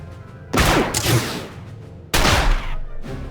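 Blaster fire in the Star Wars: The Old Republic video game comes in two loud, close volleys of rapid shots with booming bursts and a brief quieter gap between them.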